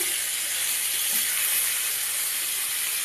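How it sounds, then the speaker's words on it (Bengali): Koi fish rubbed with turmeric frying in a pan, heard as a steady, close, bright hiss that holds evenly throughout with no voices. "এই যে মাছ ভাজতে দিয়েছি"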